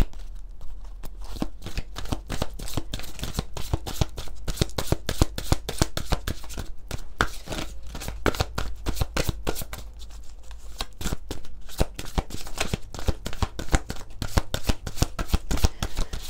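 Lumière de Fée oracle cards being shuffled: a steady run of quick, crisp riffling slaps and soft flicks, close to the microphone and continuing throughout without talk.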